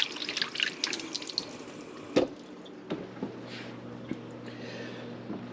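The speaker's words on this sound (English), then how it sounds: "let me wash my hands" Hands being washed under a running tap in a home kitchen, a soft steady trickle of water with a few splashes and light knocks, close by and with no talk.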